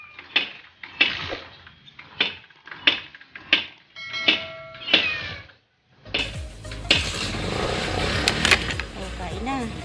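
A cat meows repeatedly in short, separate calls during the first six seconds. A louder burst of clattering, sizzling kitchen noise follows, and a voice talks now and then.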